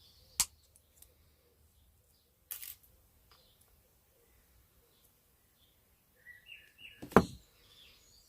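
Wire cutters snipping jewelry wire for a wire-wrapped pendant, a couple of sharp isolated clicks and snaps close by in a quiet room, with faint handling noises between them.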